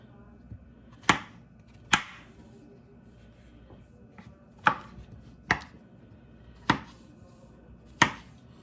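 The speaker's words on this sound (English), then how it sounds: "gonna chop our mushrooms into just bite-sized pieces" A knife chopping mushrooms into bite-sized pieces on a board, six sharp, separate cuts spaced about a second apart in a quiet room.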